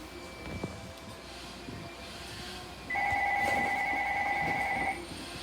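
A telephone rings in a room, a two-tone electronic trill lasting about two seconds over faint background noise, no one speaking.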